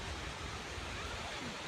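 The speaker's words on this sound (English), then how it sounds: "to my left right there is the man-made waterfall" A man-made waterfall on a nature walk gives a steady, unbroken rush of falling water, a dense even wash of noise with no other sounds standing out.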